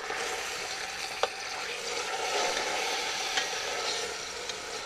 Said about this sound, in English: we got a little sizzle going on